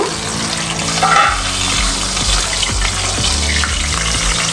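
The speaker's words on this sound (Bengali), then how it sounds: "ঢাকা দিয়ে দিয়ে ভাজব কারণ মাছ খুব ফোটে" Fish frying in oil in a pan, a loud, close, continuous sizzle with bursts of spattering and low rumbling from the stove, no voices.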